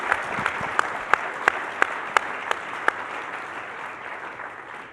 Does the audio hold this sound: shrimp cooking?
no